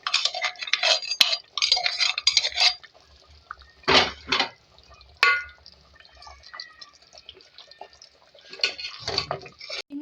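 Strained oil left from frying fish is poured into a pan in a home kitchen, with bursts of liquid splashing and sizzle alongside clinks and scrapes of metal utensils, close and moderately loud.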